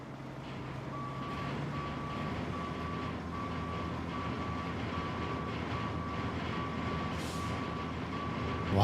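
Steady, evenly spaced reversing beeps ring out from a truck in the snowy off-road game RoadCraft, repeating over a low engine drone at moderate volume.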